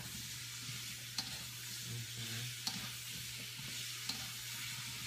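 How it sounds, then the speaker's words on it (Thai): Vegetables stir-fry in a pan in a Thai home kitchen, a steady close sizzle and hiss broken by a few sharp clacks of a utensil against the pan, with no talking. "ต่อไปก็เป็นการผัดผักต่างๆนะคะ"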